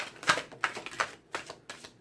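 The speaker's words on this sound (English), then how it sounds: "Sometimes this specific deck, that's too many right there, is really large for my little tiny hands. So it's really hard to shuffle." A large tarot card deck being shuffled by hand, a series of about six sharp papery riffling bursts in irregular rhythm, close and fairly quiet, with no voices.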